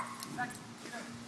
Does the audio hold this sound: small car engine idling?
no